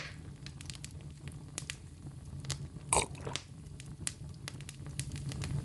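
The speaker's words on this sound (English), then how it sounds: "And listen to that woodwick crackle." A wooden-wick candle crackles softly and steadily, with scattered sharp pops and snaps and one louder crack near the middle, close and alone.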